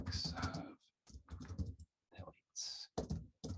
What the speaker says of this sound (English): I'll just type that in, effects of